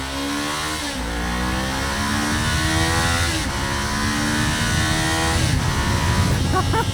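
A Kawasaki Ninja 500 fitted with a Yoshimura exhaust, ridden on the road, pulls hard through several gears, with rising revs broken by brief shift dips, and a loud, raspy exhaust note heard close and steady throughout.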